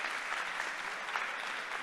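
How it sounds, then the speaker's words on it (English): An audience at a hackathon closing ceremony breaks into applause, a fairly quiet but continuous patter of many hands clapping that holds steady for a couple of seconds. "a round of applause"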